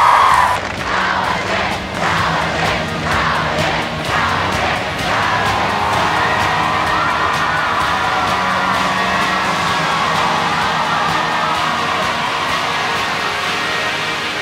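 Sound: crowd screaming yes and cheering at renewable energy rally

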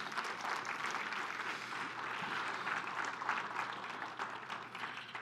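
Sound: congregation applauding the Lord

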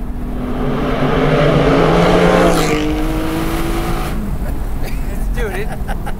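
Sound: Porsche Spyder 4.5L engine revving while accelerating

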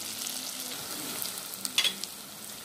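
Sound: ginger garlic paste sautéing in a pan for mutton kurma

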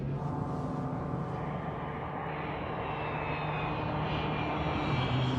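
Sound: airplane landing, from the film Taxi 2

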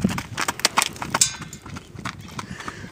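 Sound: horse hooves clip-clopping while wearing saddle

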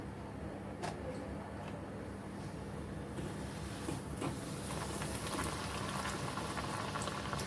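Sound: damtya dough pieces deep-frying in oil

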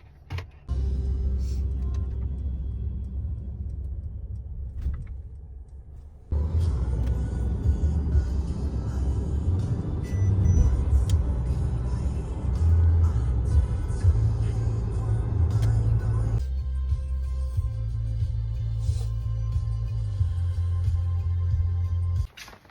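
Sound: car driving onto an expressway

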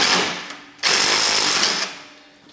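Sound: impact wrench loosening A/C condenser bolt

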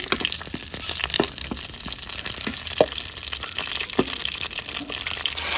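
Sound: frying curry leaves in oil

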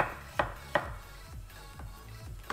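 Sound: knife chopping potatoes

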